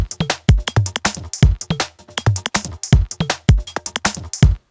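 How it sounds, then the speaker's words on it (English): A breakbeat drum sample layered with punchy electronic drums in an IDM-style groove, loud and close, with a steady syncopated run of kicks, snares and hi-hat hits and no talking. "the breakbeat sample makes it feel more human and funky and warm"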